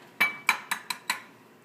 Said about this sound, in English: So I'm going to put my whites into 1 bowl and my yolks into my ingredients here.